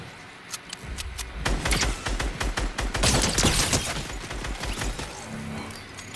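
Gunfire in the video game Fortnite, a dense stretch of rapid crackling shots and bursts, some sharp and near, others overlapping in a busy fusillade, with no talk.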